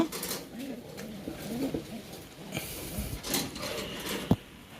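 Soft, low racing homer pigeon coos repeat close by over a quiet background, with light rustling and a brief tap near the end.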